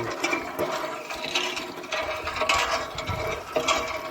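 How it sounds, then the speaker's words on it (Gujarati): Water gushes into a bucket outdoors on a farm, a continuous splashing rush mixed with irregular rhythmic mechanical knocks and clatters. "આપણે ડોલ ભરવાનું ચાલુ છે, પાણી આવે છે"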